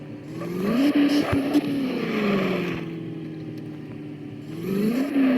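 A Ford Endeavour revs up in the Indian Vehicle Simulator game, its engine note climbing and falling in smooth sweeps, moderately loud with no talk.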